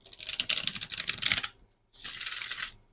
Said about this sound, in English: Let's get a good shuffle on our Oracle cards.